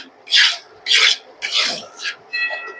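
Semolina halwa (suji) being stirred in a pan, heard as four or five dry, raspy scraping strokes in a steady rhythm, close and fairly loud with short gaps between them and no talk.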